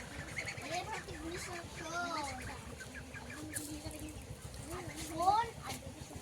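Hens clucking and chicks peeping in short, scattered calls, with a louder squawk near the end over a low background hum.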